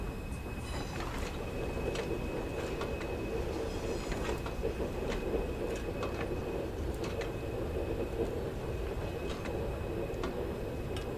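A steam locomotive in the Train Sim World 4 video game runs with a continuous low rumble, and faint rhythmic clanks and clicks sound at intervals over a steady rolling din.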